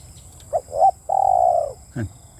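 Large spotted dove calling in a Thai bird-luring setting, giving a few short coos followed by one long sustained coo and a brief closing note, clear and close against quiet background.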